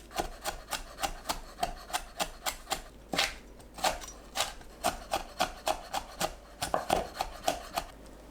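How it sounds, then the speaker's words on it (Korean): Knife chopping onion, green onion and green and red chili peppers on a cutting board, quick even taps in steady runs with a brief pause, close and clear without talk. "양파, 파, 청양고추, 홍고추를 작게 썰어주세요."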